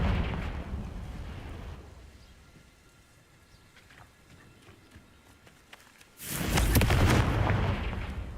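A Confringo explosive spell from Hogwarts Legacy bursts loudly about six seconds in, a dense booming blast that holds for roughly two seconds after a quieter stretch of rumbling ambience.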